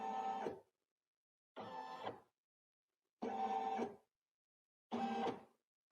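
An embroidery machine at a quilt festival tracing a square outline of its design: four evenly spaced whirring motor runs, each about half a second, separated by silence, close and clear.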